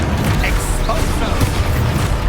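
An explosive spell in Hogwarts Legacy goes off as a dense, loud rumbling burst, thick with low booming energy that stays steady through a busy combat soundscape.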